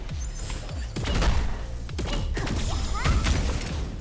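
Shooting and combat effects from the roguelike beat 'em up Star Fire: Eternal Cycle sound as a busy run of punchy blasts, thuds and whooshes layered over game music, loud and continuous.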